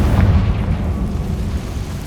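A Confringo fire spell bursts in Hogwarts Legacy, a heavy, continuous roaring blast that stays loud and dense for the whole two seconds, with no voices over it.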